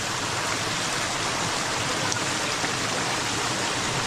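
The Tagkawayan river in Quezon flows through virgin forest as a steady, dense rushing of water, constant and fairly close, with no voices.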